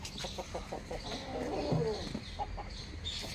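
A desi home-breed rooster with black plumage clucks in short bursts close by, with low voices murmuring in the background.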